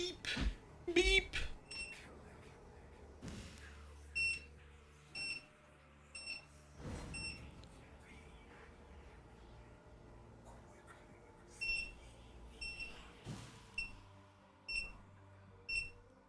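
Short electronic beeps sound in small clusters from a machine showing an O2 error, fairly close and clear, while people talk over and between them.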